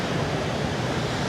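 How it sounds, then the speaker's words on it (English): Ocean waves breaking on Da Nang beach, a steady broadband wash of surf with a low rumble, continuous and fairly loud with wind noise across the microphone. "There are some waves to be ridden."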